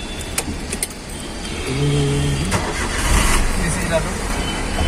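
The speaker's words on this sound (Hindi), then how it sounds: "हम गाड़ी स्टार्ट करते हैं" A Maruti Wagon R K-series car engine starts with a short cranking burst and settles into a steady idle, recorded close up with a low background hum.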